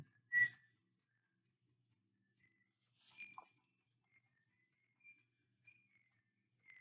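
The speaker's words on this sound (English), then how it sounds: "That guy's whistling now." A few faint, short whistled notes, spaced out with quiet gaps between them, sounding thin and distant.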